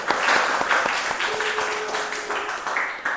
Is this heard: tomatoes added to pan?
no